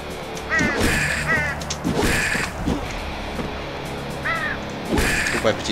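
A bird in the video game Slain: Back from Hell caws harshly several times in short paired bursts amid loud, clattering game effects and a low ambient drone.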